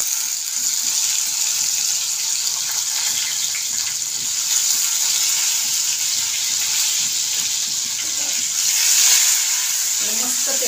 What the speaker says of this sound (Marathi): थोडा वेळ असं मस्त फ्राय करून घ्यायचं।